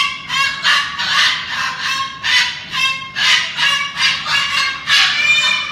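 A cockatoo calling nearby, about a dozen loud, harsh honking squawks in a fairly even rhythm, with no other voices.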